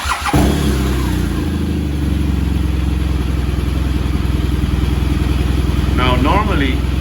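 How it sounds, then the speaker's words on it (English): Motorcycle engine cranks and catches near the start, then settles into a loud, steady idle with a rhythmic throb, close by, with a brief rising whine near the end. "I'm going to start the bike up"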